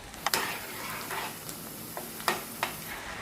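Onions fry quietly in a pan for a chicken curry, a soft, steady sizzle broken by a few sharp clicks and scrapes of stirring.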